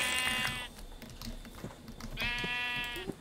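Sheep in the Minecraft video game bleat twice, short buzzy calls at the start and again near the end, with soft clicking and tapping sounds between them.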